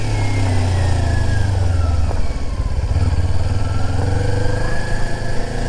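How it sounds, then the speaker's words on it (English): Motorcycle engine with stock exhaust droning loudly and steadily while riding on a multi-lane road around 35-40 mph, with a slight rise and dip in pitch as the throttle shifts. "the whir of that fucking motor just go."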